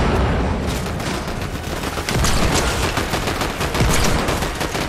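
Rapid automatic rifle gunfire in Fortnite, dense bursts of shots running continuously and loudly through the whole stretch, alone without talk.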